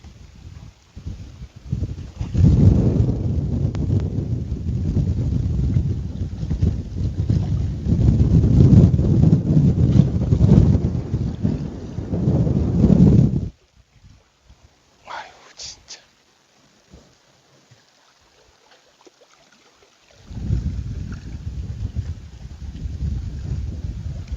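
Strong wind buffets the microphone at a seaside rock-fishing spot on Geumodo in Namhae, a loud rushing roar for about thirteen seconds, then near silence before the gusts return at the end.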